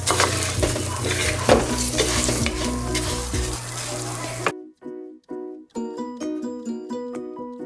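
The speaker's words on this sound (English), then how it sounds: "just let your rice toast, let it get a little brown" Rice toasting in an oil-filled pan sizzles and crackles steadily, with stirring scrapes, before the frying cuts off and a short, melodic tune of musical notes plays alone.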